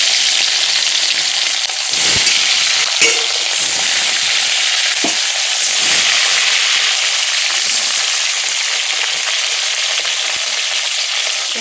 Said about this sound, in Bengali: তেল গরম, এই যে একে একে মাছগুলোকে ছেড়ে দিলাম